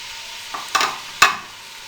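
Finely chopped onions hitting hot oil in a pressure cooker, a soft hiss of frying with a few sharp stirring scrapes and clatters, brief and close.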